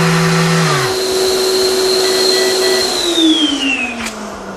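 Festool ETS random orbital sander running with its dust extractor hose attached, a loud steady whine that keeps going while the pitch shifts and slides downward near the end, with no talking.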